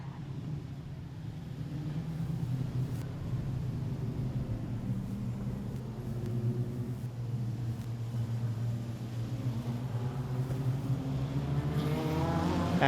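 Production sedan race cars at Rockhampton Speedway, a dirt oval, droning steadily at a distance, engines blending into a continuous low rumble with a rising pitch sweep near the end.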